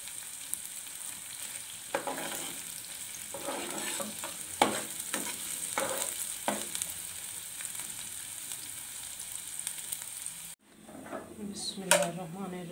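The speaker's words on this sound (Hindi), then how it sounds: "अब ये तड़का तैयार हो रहा है कढ़ी के लिए" Whole red chilies fry in a tadka for Punjabi kadhi, giving a steady close sizzle of hot oil, with spoon stirs and clinks against the pan and a brief quieter gap near the end.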